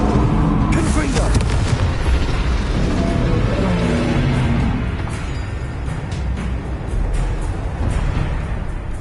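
Confringo spells blow up in the video game Hogwarts Legacy, a heavy rumbling blast and booming debris that carry on under a continuous din of combat sounds while a voice talks over it.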